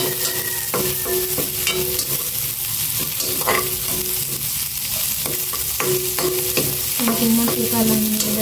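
Food fries in a small amount of oil, a loud close sizzle with repeated scraping stirs and clinks of a utensil against the pan, no talking.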